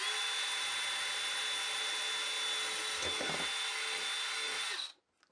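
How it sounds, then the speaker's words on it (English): Power drill boring into a closed wooden drawer, one continuous loud whirring whine lasting about five seconds before stopping abruptly. "I'm just going to drill these while it's closed right here, just like this, because then all this sawdust will go right into the drawer."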